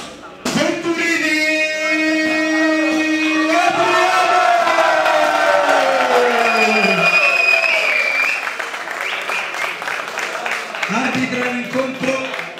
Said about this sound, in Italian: Grande applauso, grazie.